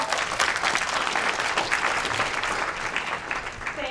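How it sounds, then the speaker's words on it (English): A conference audience at a software developer event in New York applauds a speaker onto the stage: dense, steady clapping from a full room that holds an even level for the whole stretch, with no voices over it. "Let's give her a warm round of applause."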